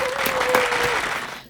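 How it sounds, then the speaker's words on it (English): Brief burst of clapping, a short, fairly close patter that fades out at the end, with a faint tone running underneath. "Round of applause."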